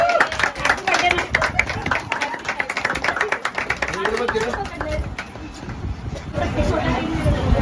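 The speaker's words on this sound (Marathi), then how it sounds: "टाळ्या वाजव रे फक्त." Groups of people clap their hands during a post-wedding game at a Marathi wedding in Satara. The claps come quick and ragged under lively crowd chatter, and the voices carry on throughout.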